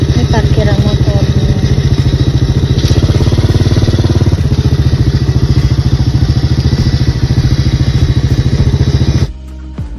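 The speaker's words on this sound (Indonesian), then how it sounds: "Ini parkiran motor." Motorcycle engine idling loudly and close in a motorcycle parking lot at Kebun Raya Cibinong botanical garden, a steady rapid thumping pulse with clattering that cuts off near the end; voices are heard underneath.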